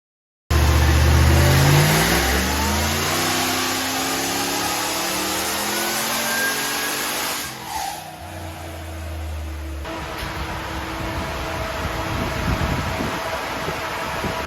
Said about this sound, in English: I thought I'd sneak in and just get the real final last dyno power run on this supercharged Y62